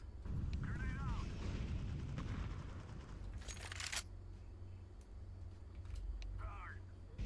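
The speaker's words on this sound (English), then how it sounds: "Grenade out." A grenade explodes in Counter-Strike 2 as a short, loud broadband blast over a steady low game rumble, with brief voices before and after.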